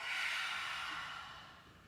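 A long, steady hissing exhale after a held breath in Kundalini yoga, close and clear, fading gradually over two seconds with no talking.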